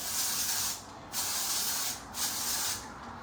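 Perk Up texture hair spray from Mika, a slightly stronger, powdery texture spray, misted onto long hair being styled into a high ponytail: three steady hissing aerosol bursts in a row, close and fairly loud, with short pauses between.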